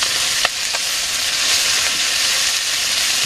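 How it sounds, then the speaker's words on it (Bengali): Fish (likely bata, puti or silver carp) frying in a pan in a village kitchen, a steady loud broadband sizzle with a couple of brief stir clicks near the start. "এখন মাছ ভাজি"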